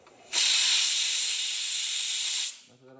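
A pressure cooker with a loose rubber gasket vents steam in one loud, sharp hiss lasting about two seconds, starting abruptly and cutting off cleanly, followed by a brief faint tonal sound.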